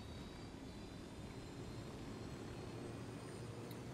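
A helicopter in the video game Ghost Recon Wildlands drones steadily with a dense, rumbling rotor and engine roar, held at even loudness throughout with no talking.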